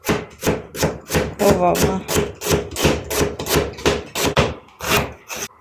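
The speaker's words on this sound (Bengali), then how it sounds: "পেঁয়াজ কিভাবে কাটতেছে কুচি কুচি কুচি কুচি করে।" A knife finely chops onion on a cutting board: about a dozen crisp, evenly spaced strikes, close and loud, with a brief exclamation from a voice partway through.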